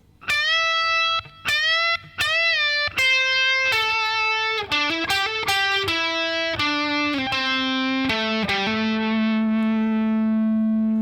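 Electric guitar plays the closing phrase of a guitar solo alone, a run of sustained, bent and sliding notes with effects, steady and loud throughout.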